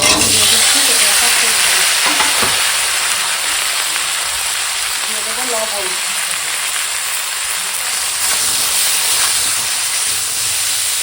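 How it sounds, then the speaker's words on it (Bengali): Steady, loud hiss of food frying in oil, a dense sizzle continuing throughout with faint stirring underneath. "সবজিটা অনেকটা সময় ফোড়নের সঙ্গে ভাজা হয়ে গেছে"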